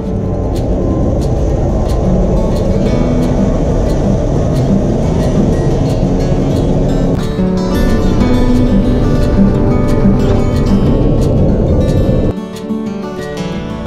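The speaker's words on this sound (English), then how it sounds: "These are the trains you come up on." A steady loud rumble of a Swiss train in motion between Zurich and Lucerne, with rhythmic clicking and rattling of wheels, continuous for the whole stretch before easing slightly near the end.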